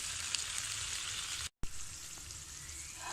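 Capsicum sizzles gently in a pan on a low flame, a steady, soft frying hiss with a brief silent gap partway through.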